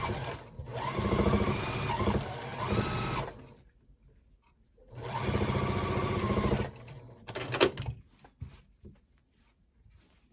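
A sewing machine stitches quilt blocks together with a 1/4 inch seam, two loud sustained runs of rapid whirring separated by a pause, followed by brief handling clicks.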